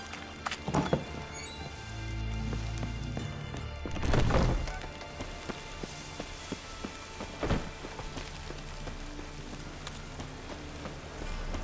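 Steady downpour of rain in The Witcher 3: Wild Hunt, a continuous dense patter on surfaces with a few louder splashes and occasional hoof clops, no voices.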